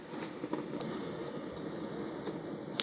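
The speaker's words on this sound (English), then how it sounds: "it does beep at you 2 or 3 times to let you know that it's done brewing." A Mr. Coffee 12-cup Rapid Brew programmable coffee maker signals the end of brewing with two long, high electronic beeps, clear and close over a faint room hiss.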